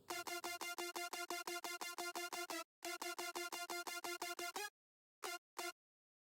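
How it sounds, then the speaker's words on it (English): Synth saw layer pairing a sawtooth with a square wave, low end removed, playing a fast run of evenly spaced staccato stabs that stop briefly, resume, then end in two isolated hits. "Next we have something called the saw layer, which is just a simple sawtooth down paired with a square wave,"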